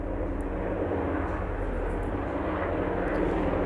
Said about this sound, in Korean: 헬기가 날아가서 굉장히 시끄러워서.